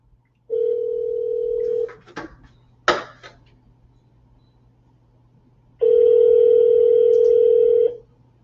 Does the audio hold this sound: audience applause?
no